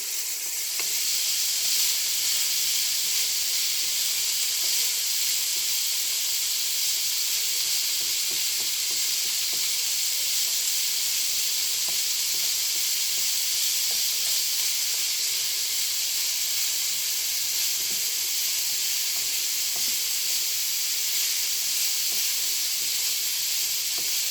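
Garlic sizzles in olive oil in a hot pan, a loud, steady hiss and crackle that holds without a break, with faint clicks of stirring.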